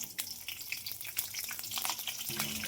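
Whole spices such as cinnamon, cloves and bay leaf with green chilies crackling in hot oil, a brief close spattering sizzle with scattered sharp pops.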